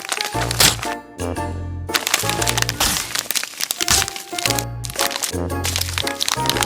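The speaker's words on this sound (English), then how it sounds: "Let's use a mini pan to break up the package of Cheetos." A small toy pan smacks and crushes a sealed packet of Cheetos in a miniature kitchen, giving repeated loud crackling, crinkling crunches in bursts with brief pauses between blows.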